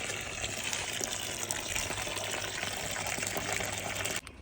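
Water pours steadily into a tub of quicklime, a continuous close rushing gush that holds even for about four seconds and then cuts off abruptly.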